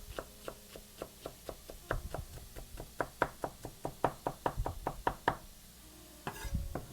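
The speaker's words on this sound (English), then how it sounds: "I just think it's fun to watch other people chop." Knife chopping through food on a board for tofu patties, a steady run of about two dozen crisp, evenly spaced cuts close by, with a brief pause and rustle near the end.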